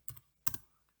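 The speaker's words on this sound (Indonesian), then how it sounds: "kita bisa langsung ketikkan di alamatnya itu" Keys on a computer keyboard are typed as a web address is entered, two quick clusters of close, crisp clicks separated by a short pause in an otherwise quiet room.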